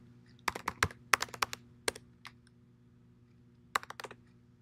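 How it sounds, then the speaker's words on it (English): Quiet keystrokes on a computer keyboard come in short irregular bursts, a quick flurry of clicks, a pause, then another cluster, close-miked over a faint steady hum. "I was typing the wrong password."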